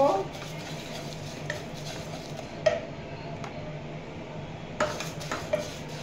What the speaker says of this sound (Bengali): মৌরি, এগুলোকে আমি একটু রোস্ট করে নেব